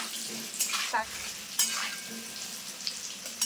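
Potatoes frying in a pan for Kashmiri aloo dum, with a soft, steady sizzle broken by a few scraping stirs of a spatula, close by.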